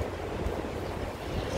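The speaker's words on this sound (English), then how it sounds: "So you may be able to hear the wind." Wind gusts across a microphone on a downtown Chicago street on Saint Patrick's Day, a faint, steady low roar and buffeting with no voices.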